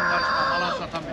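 A rooster crows once at a poultry market in Taşköprü, Kastamonu, loud and close, a single drawn-out call filling the whole moment.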